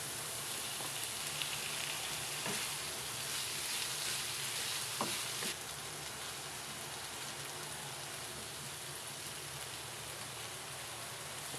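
Century tuna frying in a pan gives off a steady, close sizzle that runs the whole way through with a few light clicks and pops. The sizzle eases slightly partway through.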